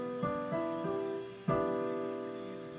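Piano ninth chord in a jazzy neo-soul voicing, softly rolled notes followed by a fuller struck chord that rings out and decays, quiet and alone.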